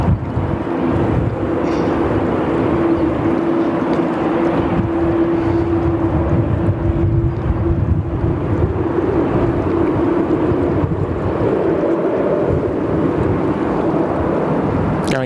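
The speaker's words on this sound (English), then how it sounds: "Comes our 787, the beautiful Qantas 787." A Qantas Boeing 787 at Sydney Airport produces a loud, steady jet roar with a sustained low hum. Heavy wind buffeting on the microphone runs throughout, and no one speaks.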